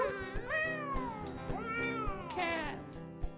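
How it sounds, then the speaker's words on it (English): A cat meowing sound effect: several drawn-out, rising and falling meows in quick succession, loud and close, over a dense musical background. "Cat. Cat sound. Meow."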